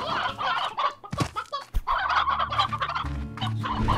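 Chickens in the video game Slime Rancher cluck and squawk continuously in a busy, close cluster, with overlapping calls and a soft thud among them.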